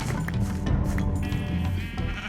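Sheep bleating in Minecraft, a loud, steady bleat running through the whole short stretch, alone with no talk.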